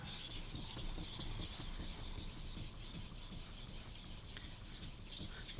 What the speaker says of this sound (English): we're going to sharpen a stainless powdered steel knife